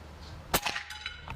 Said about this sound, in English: I'm going to shoot the 36 grainers of the H&N slugs